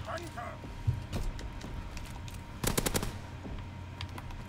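A PPSh submachine gun fires in a World War II shooter game, with a short rapid burst of several shots partway through and scattered single cracks around it, over low game ambience.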